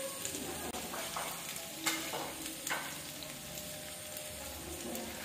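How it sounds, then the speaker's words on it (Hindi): Chopped onions fry in hot oil in a pot, a steady, dense sizzle heard close up with occasional stirring scrapes, fairly quiet and without talking. "अब हम इस प्याज को जो है वो ब्राउन करेंगे।"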